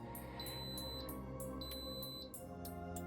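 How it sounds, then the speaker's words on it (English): An Instant Pot in slow-cook mode sounds a series of soft, regularly spaced electronic beeps as its timer starts, over a steady low hum in a quiet kitchen. "And that's the timer starting."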